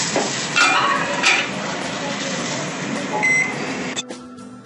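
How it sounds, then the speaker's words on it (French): A microwave oven hums steadily while heating scallops at 300 watts, a constant close drone that stops abruptly near the end, followed by faint kitchen sounds. "Et on va chauffer le four au micro-ondes."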